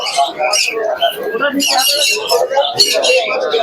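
Pigeons at a crowded pigeon market in Krishnanagar, chirping and cooing in a dense, continuous flock chorus close by, mixed with steady chatter from buyers and sellers.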